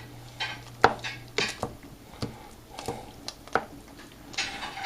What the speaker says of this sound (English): Stir that up a bit.